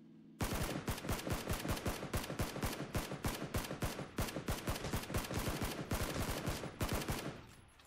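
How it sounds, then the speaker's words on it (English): A rapid spray of automatic gunfire in the battle royale game PUBG, dozens of evenly spaced sharp shots in one sustained burst lasting about seven seconds, loud and close, then cutting off. "It's a lot of shots to the right."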